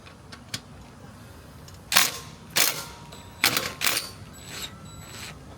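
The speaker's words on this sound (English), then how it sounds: "So I'm going to go ahead and loosen the clamp up." Exhaust clamp bolts being loosened on a Suzuki DR650 motorcycle fitted with a LeoVince X3 EVO exhaust, heard as four or five short, sharp mechanical clicks in irregular rhythm, close by and fairly loud over a quiet background.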